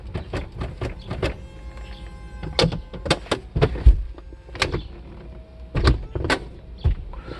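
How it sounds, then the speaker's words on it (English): The power convertible roof of a 1994 Mercedes SL600 closes in stages, with an electric motor whirring between a series of sharp clunks and latching knocks, fairly close and at moderate volume. "All right, I'm gonna close the roof."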